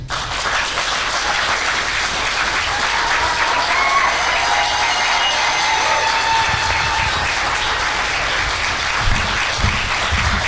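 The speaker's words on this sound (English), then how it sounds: "I'm going to take this moment to ask you to give a hard applause" A town hall meeting crowd applauds loudly to welcome a guest speaker. Dense, continuous clapping from many hands runs evenly for about ten seconds as one full wall of sound, with no voices on top.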